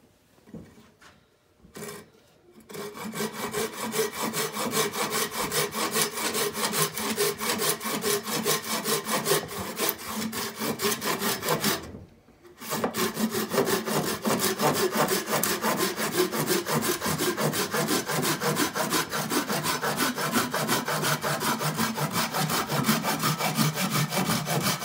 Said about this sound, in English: Now we're gonna cut the next 2x4